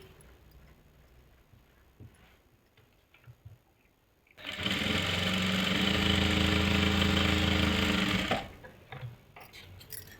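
After a quiet stretch of faint rustling, an electric sewing machine runs loud and steady for about four seconds, stitching the crotch seam of a salwar panel, then stops and small handling noises follow.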